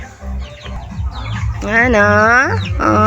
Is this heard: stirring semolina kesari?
no